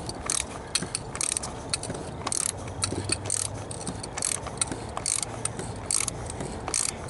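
A spark plug is twisted out of a BMW 330xi E46 engine, giving faint repeated ratcheting clicks and light metallic scrapes close by in a quiet garage.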